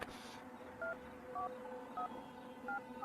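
Telephone keypad tones beep one after another, four short dual-pitch presses spaced roughly half a second apart, played quietly over a low background hum.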